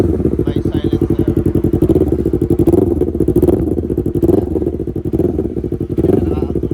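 A Yamaha MT-03 motorcycle with a newly installed exhaust silencer runs close by, its engine pulsing in a fast, even throb that swells slightly as it revs, loud and steady throughout.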